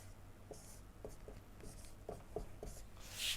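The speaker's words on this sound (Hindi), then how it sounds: "नोट डाल के लिख लेता हूँ मैं" A pen scratches out notes during an electrician theory class, faint soft strokes and taps spaced irregularly over a quiet room hum, with no talking.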